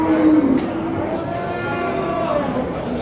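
Cattle moo repeatedly at a livestock market in Andijan's Asaka district, where young Kyrgyz bulls are for sale; several drawn-out lowing calls overlap near and far amid steady crowd murmur.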